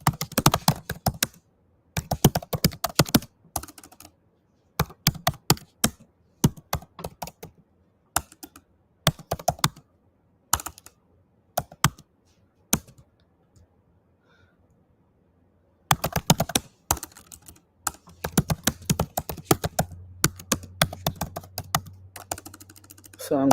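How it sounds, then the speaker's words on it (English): Rapid clattering keystrokes on a computer keyboard come in bursts with short pauses, fairly close and moderately loud, with a low steady hum running underneath in the later part. "So I'm typing right now."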